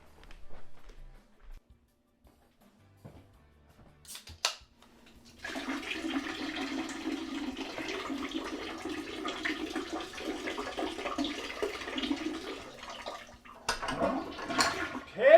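A toilet flushes a drink away in a bathroom, a rushing, gurgling surge of water lasting about eight seconds after a few quiet handling sounds, then tapering off, with no talking.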